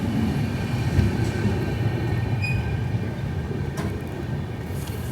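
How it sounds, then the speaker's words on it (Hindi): Garib Rath Express pulling in at platform 3 of a station in the Howrah division, a steady low rumble of wheels and carriages rolling along the track with faint high squeals, continuous throughout. "प्लेटफॉर्म नंबर 3 पे अराइवल हुआ है।"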